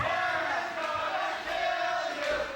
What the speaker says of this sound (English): The crowd chanting, Morgan's going to kill you, and I'm inclined to agree with them.